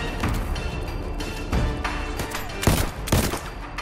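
Rapid bursts of gunfire in the video game VoidTrain crackle in loud clustered volleys, close and punchy, with brief gaps between shots.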